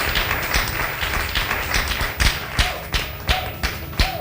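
An audience applauding at a Bible quiz grand final, a loose patter of claps that thins into a few sharp, separate hand claps near the end.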